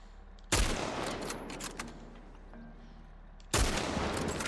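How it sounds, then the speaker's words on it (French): Two loud gunshots ring out about three seconds apart in the video game The Last of Us Part 1, each a sharp blast followed by a decaying reverberant tail over quieter in-game ambience. "Oh, je lui ai mis un headshot."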